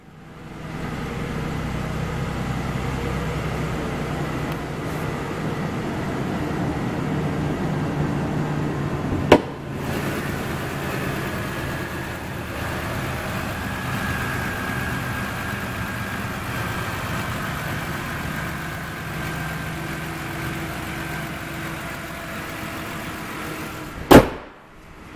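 A 2010 Ford Explorer Eddie Bauer 4x4 idles steadily with its hood open, a low even engine hum running for about twenty-five seconds, broken by two sharp clicks or knocks along the way.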